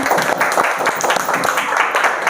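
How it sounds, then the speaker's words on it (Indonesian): A classroom group claps together indoors, brisk uneven hand claps close by, mixed with a few voices calling out. "Tepuk tangan dong."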